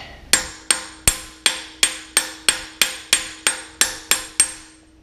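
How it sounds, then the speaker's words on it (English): A small hard hammer strikes metal about a dozen times at a steady, unhurried pace during a Toyota 4A-GE engine rebuild, each blow sharp and ringing, with no talking. "I guess I use my small hammer here. It's kind of a harder hammer."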